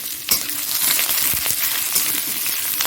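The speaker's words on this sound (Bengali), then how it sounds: "এইবার এখানে পেঁয়াজ আর কাঁচা লঙ্কা কুচুনো আছে দিয়ে দিচ্ছি" Chopped onion and green chilli fry in a little oil for potato curry, a loud, close, continuous sizzle with crackles and the occasional scrape of stirring.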